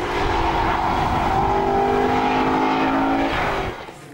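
Aston Martin V8 Vantage Roadster convertible engine held at loud, sustained high revs with a rich, steady tone for over three seconds before easing off, heard up close with no talking.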